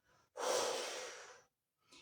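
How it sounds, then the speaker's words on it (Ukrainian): One forceful exhale through the mouth during a calming breathing exercise, a strong breathy rush lasting about a second. Soft breath sounds come just before and after it. "ви в центральній позиції видихаєте через рот, знову ж таки, досить потужно"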